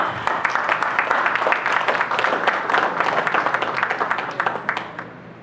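A crowd claps loudly and continuously, the applause dense at first and then thinning and fading out toward the end.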